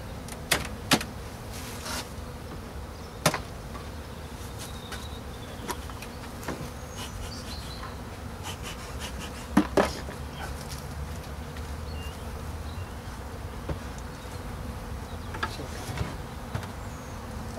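Honey bees swarm around an opened hive during an early spring inspection, a dense steady buzz filling the air, broken by a few sharp clicks and knocks as frames are handled nearby.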